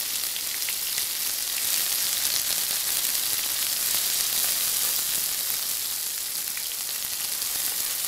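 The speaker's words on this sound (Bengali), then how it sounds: "পেঁয়াজটাও একটু ফ্রাই করে নেব" Onions fry in hot oil with tempering spices for an egg and okra curry, giving a steady, dense sizzle that stays close and even throughout, with no voices over it.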